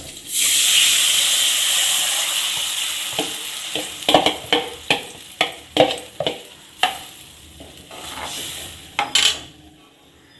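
Ground masala sizzling in hot oil for a Hogenakkal-style fish curry, a steady loud fry hiss with a rhythmic series of scraping stirs in the pan.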